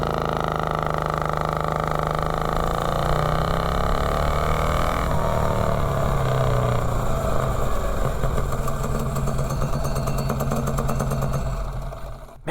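A mini bike fitted with a 7-foot exhaust and a 3-foot intake accelerates from 0 to 30, its small engine droning loudly and climbing steadily in pitch before cutting off abruptly at the end.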